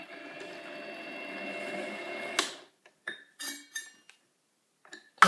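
A stainless steel screw is driven into a lid knob: a steady whirring grind runs for about two seconds, then stops and gives way to a few short, sharp clicks and taps close by.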